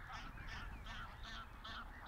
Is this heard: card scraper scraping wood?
no